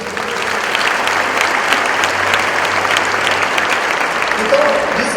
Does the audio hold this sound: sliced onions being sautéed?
no